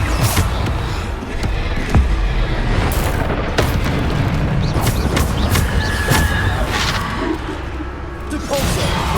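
Spell explosions from the Bombardo curse in Hogwarts Legacy, loud repeated booms and crashes mixed with dense combat noise and scattered bursts throughout.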